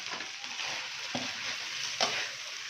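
Chicken manchurian with spring onions is stirred in a hot pan, giving a steady sizzle broken by two sharp scrapes of the spatula, with no voices.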